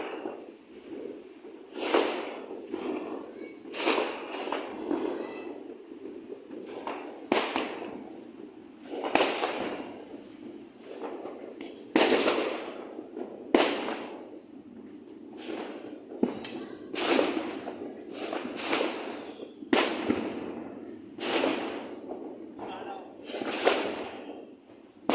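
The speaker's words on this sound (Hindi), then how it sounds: "बहुत ज़्यादा लोग मतलब पटाखे वगैरह जला रहे हैं।" Diwali firecrackers and fireworks crack and bang outside a home, sharp loud bursts repeating irregularly every second or two through the clip, with someone talking over them.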